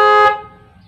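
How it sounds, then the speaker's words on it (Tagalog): A motorcycle horn sounds during wiring troubleshooting, giving one short, loud, buzzy honk that cuts off after about a quarter second and leaves only a quiet background. "Busina."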